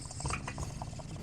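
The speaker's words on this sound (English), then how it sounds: "What's that bubbling sound?" Water bubbling in a bog, a brief run of close, irregular gurgles and wet pops with no talking over them.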